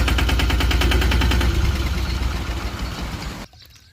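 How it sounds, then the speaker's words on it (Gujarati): A DK Champion tractor engine chugging with a rapid, steady rhythmic knock during groundnut sowing, loud and close before fading and cutting off. "આવી રીતનું હાલે છે અમારું નવું ચેમ્પિયન ટ્રેક્ટર"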